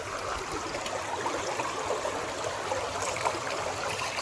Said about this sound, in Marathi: पायऱ्या चढायच्या पूर्वीच एक कुंडा म्हणजे एक ओढा, तर थंय आम्ही पाय धुतो